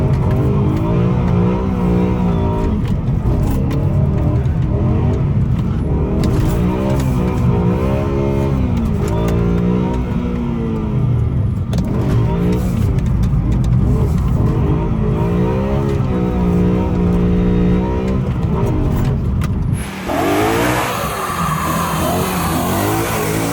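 A BMW S65 V8 swapped into a 1M Coupe revs hard at high RPM, a loud, close, sustained howl that rises and falls in repeated sweeps before cutting off abruptly near the end.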